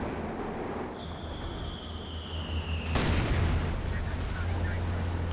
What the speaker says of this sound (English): Same with the Katyusha now doing a long range barrage.